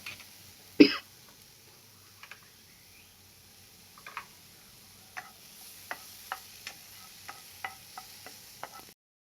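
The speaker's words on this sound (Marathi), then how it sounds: "आपण लो फ्लेमवर आपण हे सॉटे करून घेतोय." Mushrooms sautéing in butter in a pan over a low flame, heard as a quiet run of small, sparse ticks and taps from a spoon or spatula, with one louder clack near the start.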